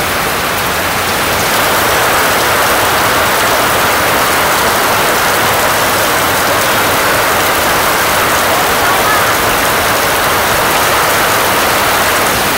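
Heavy monsoon rain falls on a village, a constant broadband hiss of drops holding steady and loud throughout.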